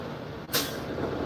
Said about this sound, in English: Sorry for the noise. I didn't invite the truck.